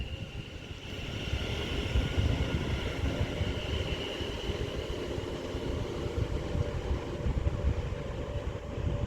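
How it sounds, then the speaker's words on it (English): A London Northwestern Railway train pulls out of Mossley Hill station on the West Coast Main Line, its steady, fairly faint rumble and rolling noise heard from the platform side with no talk. "Now departing is going to be the 1420 London North Western Railway service to Birmingham New Street from Liverpool Lime Street."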